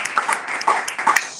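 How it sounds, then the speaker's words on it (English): A small audience at a poetry reading claps briefly; scattered, separate hand claps sound close and moderately loud over about a second and a half. "I think a round of applause for that."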